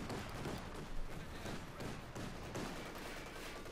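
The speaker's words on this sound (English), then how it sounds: "Pummeling the entire field there with heavy auto cannon fire." In a Company of Heroes 2 battle, a 2cm autocannon and its coaxial machine gun pound away in dense, rapid bursts, with overlapping rattling shots and thumps that keep up throughout.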